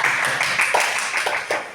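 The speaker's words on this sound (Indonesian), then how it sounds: "Beri tepuk tangan untuk Ibu Rizka." Audience at a school teachers' training session clapping for a speaker, brief dense applause from a small room crowd, steady and close for under two seconds.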